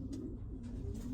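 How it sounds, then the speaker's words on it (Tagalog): A racing pigeon coos softly and low, a couple of brief murmuring calls over a steady quiet background, close by, with no talking. "ang gandang ibon"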